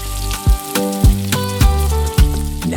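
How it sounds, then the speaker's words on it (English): Sliced onions frying in oil in a pan for vegetable spaghetti, giving a loud, close sizzle with several sharp clanks of a utensil against the pan at fairly regular intervals. "Add your sliced onions and cook until soft and sweet."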